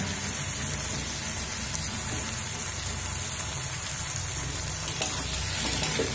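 Steady, even sizzling of frying in a pan with coriander leaves, a constant hiss like light rain that runs throughout with no speech.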